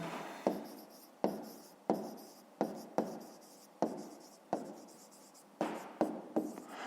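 Pen strokes on paper during a fifth-grade maths exercise on a triangle's sides, about a dozen quick scratching bursts in an irregular rhythm, close and fairly soft, with no talking.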